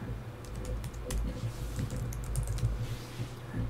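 Rapid keystrokes on a computer keyboard as a search is typed into the Evernote 10 note-taking app: a steady, close clatter of uneven taps with no voice.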